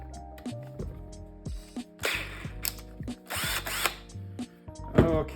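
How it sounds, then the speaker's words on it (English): A cordless drill spins in short bursts with stops between them, close up and fairly loud, set to the work of modifying a small everyday-carry item with no one talking. "the cordless drill"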